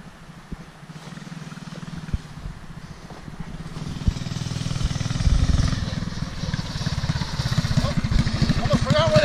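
A motorcycle engine revs and roars while riding at a private track, a steady rising drone with rhythmic throttle pulses that grows louder partway through, with people talking over it.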